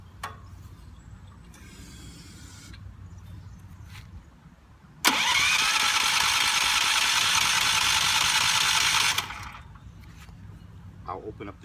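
A Duromax XP4850 hybrid generator engine catches after priming and runs loud and steady for about four seconds, then cuts out abruptly, with quieter mechanical handling noises before and after.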